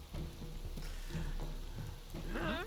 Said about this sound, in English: Now it's even raining.